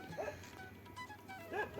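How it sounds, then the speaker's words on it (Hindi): A chained dog in a Himachal hill village barks loudly at passersby, with a couple of sharp, close bark bursts near the start and again near the end, over faint background ambience. "इधर इन लोगों ने पाल रखा है कुत्ता, जो कि जोर जोर से हमें भौंक रहा है"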